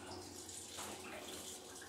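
Water runs steadily into a container filling up during household cleaning, a continuous broadband rush of moderate loudness with no talking over it.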